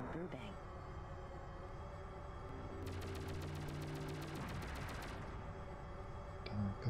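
Rapid bursts of gunfire from the PlayStation game Shockwave Assault, a fast automatic rattle lasting a couple of seconds, sitting low beneath continuous background sound and music.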